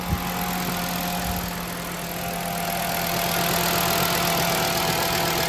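A 2009 VW Beetle's 2.5L five-cylinder engine idles right after new spark plugs and coils have been fitted. It gives a loud, steady hum with a constant drone, picked up close and uninterrupted for several seconds.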